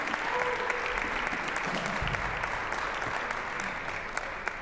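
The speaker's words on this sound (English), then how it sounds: "Another big round of applause for our friend John Ohnstad" Sustained audience applause at a trombone society concert, steady and full-bodied from start to finish, with faint crowd murmur underneath.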